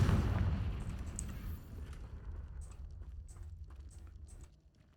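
Fire spell explosion blasting in the video game Hogwarts Legacy: a loud, booming burst at the start that decays into rumbling debris and scattered crackles over a few seconds.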